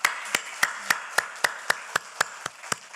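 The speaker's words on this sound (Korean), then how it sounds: "자, 우리 환영의 박수로 하십니다." A church congregation claps in welcome during a Sunday service, about a dozen sharp, evenly spaced claps in a steady rhythm, fairly close and with no talking.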